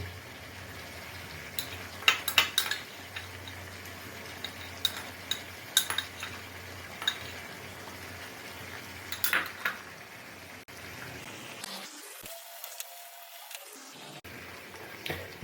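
Mutton stir-fried with ginger garlic paste in a pan over low to medium heat, heard as repeated close metal spatula scrapes and clinks against the pan over a soft sizzle, with a brief quiet gap near the end and no talking.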